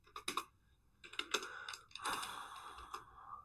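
Computer keyboard typing while saving and compiling a C array program, quick bursts of close clacking keystrokes separated by brief pauses, with no talk over them.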